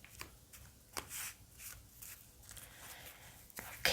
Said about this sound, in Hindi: let me shuffle